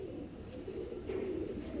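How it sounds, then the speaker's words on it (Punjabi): An old desi-breed pigeon of the antique Silakoi or Chapra type coos in low, soft, rolling notes, close and steady throughout with no talking. "ਇਹ ਕਬੂਤਰ ਆ ਭਾਜੀ"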